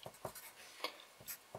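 Pen writing an equation during a transistor voltage calculation, a few short faint scratchy strokes in quick succession, close and quiet with no talking.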